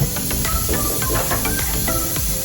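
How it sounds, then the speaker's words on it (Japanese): Peruvian bean and beef stew (frejoles con seco) simmering on very low heat, a steady soft hiss with faint bubbling ticks, close and continuous with no talk. "これはすごく弱火で煮込みます"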